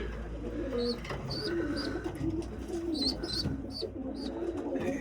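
Pigeons coo repeatedly in a loft where young birds and eggs are kept, soft rolling calls recurring steadily with chirps over a low background hum.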